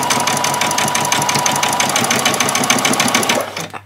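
A sewing machine backstitching a doll's dress whirs in a fast, steady rhythmic chatter, loud and close, then winds down and stops near the end, no talking.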